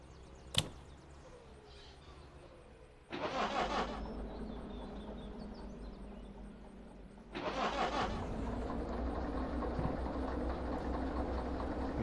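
Diesel locomotive engines in Derail Valley spooling up, a sharp click followed by two broad roaring surges that settle into a steady, louder rumbling idle, with no voices.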